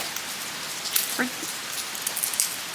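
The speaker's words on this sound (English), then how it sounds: "I love the rain because I love the sound." Steady rain patters outside with a soft, even wash of sound, a few distinct drips and a faint squeak rising above it, heard from indoors on a humid day.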